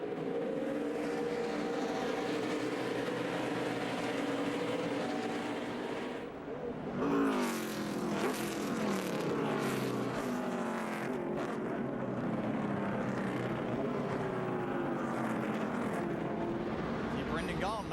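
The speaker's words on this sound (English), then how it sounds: "Chase Elliott made a nice corner there. He opened up his lead" Stock cars racing on track at the 2014 Gardner Denver 200, a continuous roar of engines heard under race commentary, with a burst of louder engine noise partway through.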